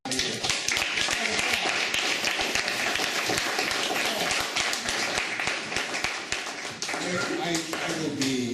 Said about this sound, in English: I want to give him a round of applause and welcome him back up here